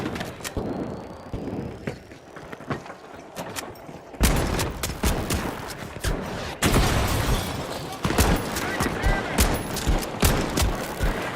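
Slug shotgun fire in the shooter game Rogue Company, heavy blasts recurring irregularly amid dense gunfire and explosions, loud and close throughout a busy match.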